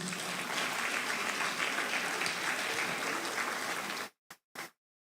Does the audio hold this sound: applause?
yes